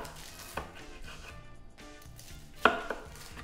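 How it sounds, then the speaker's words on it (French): A knife cuts warm, cooked hot dogs into small pieces on a board with a few soft, irregular chops and one sharper knock. "Donc, vous allez couper des petits morceaux."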